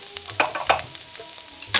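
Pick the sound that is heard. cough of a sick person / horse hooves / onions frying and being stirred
onions frying and being stirred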